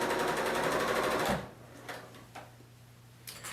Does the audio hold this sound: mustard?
no